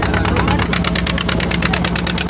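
A boat engine on a river crossing, leaving the ghat, thrums with a loud, fast, steady knocking pulse close by, filling the whole stretch.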